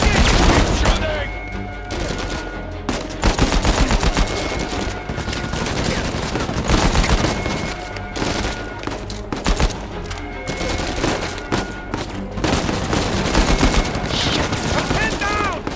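Dense, continuous gunfire from the Uncharted 4 video game, with rapid automatic bursts and single shots crackling nonstop under a game soundtrack, with occasional shouted dialogue mixed in.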